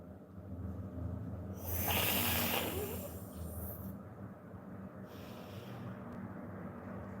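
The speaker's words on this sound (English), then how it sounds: "take your tongue out and roll it and inhale" A long hissing inhale of sheetali pranayama is drawn in through a rolled tongue, close and breathy, building to a strong rush of air before easing off, with no voices.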